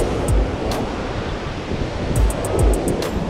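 Loud, continuous rushing water roars near the Ramnagar river barrage, broadband and close, with bursts of wind buffeting the microphone and no speech.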